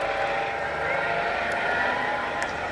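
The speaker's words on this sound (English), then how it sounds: "You can hear the engines working hard." Advanced semi-rigid-rotor instructor helicopter performing airshow aerobatics, engines straining in a steady loud roar heard from a distance, with a commentator talking over it.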